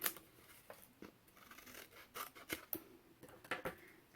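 Scissors snipping along the edge of a paper pocket for a handmade mini folio journal, a series of quiet, close, irregular cuts spread across the stretch with no talking.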